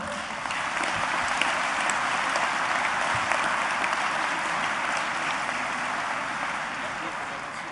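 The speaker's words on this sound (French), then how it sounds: "je vous demande de l'applaudir" Steady, dense applause from an audience at a UMP public political meeting in the Rhône, sustained and evenly loud throughout with no pauses.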